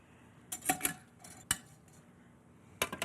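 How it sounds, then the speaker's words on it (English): A medium-sized potato ricer handled with cooked potatoes in a kitchen gives sharp metallic clanks and clinks in scattered bursts, with quiet gaps between them, close and moderately loud. "Now I'm going to use this medium-sized ricer and just put the cooked potatoes right into it."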